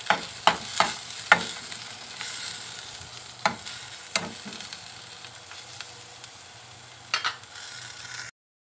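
Garlic, onion and tomato sautéing in a pan, a continuous close sizzle punctuated by sharp scrapes and taps of a spatula against the pan.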